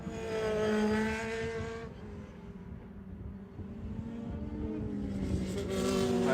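Race cars lapping NOLA Motorsports Park during a Hoosier Super Tour event, engines howling loud and near with rising and falling pitch as cars pass, one fading away before another approaches.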